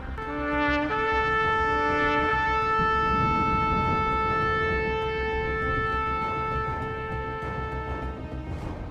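A single long, sustained shofar blast (tekiah) with a bright, buzzy tone holds steadily for several seconds, then fades slightly toward the end.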